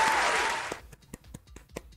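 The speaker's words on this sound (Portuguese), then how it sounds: "Eu nem lembro mais qual é o meu atalho para botar os aplausos" A canned applause sound effect bursts loud and full, then cuts off abruptly, leaving a few scattered, isolated claps trailing in the quiet afterward.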